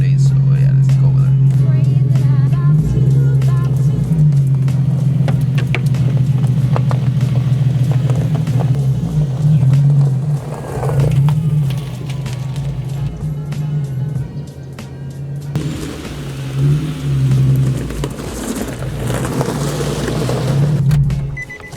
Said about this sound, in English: let's go ahead and move the car next to my house